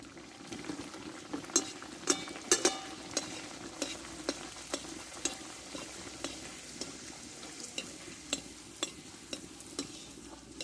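Mung dal kochuri deep-frying in hot oil, a steady, fairly soft sizzle with regular crackling pops throughout and no talking.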